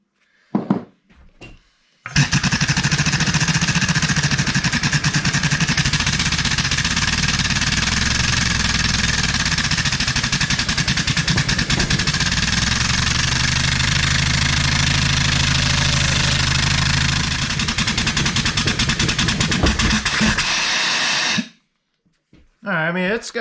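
An old engine converted to run on compressed air at about 100 psi, starting abruptly and running for around twenty seconds with a loud, rapid, even knocking chug, then stopping, with no talking.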